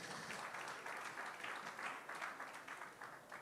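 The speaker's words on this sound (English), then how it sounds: "a round of applause for our mother." Steady applause from an audience at a book launch, a dense wash of many hands clapping at even volume throughout, no voices over it.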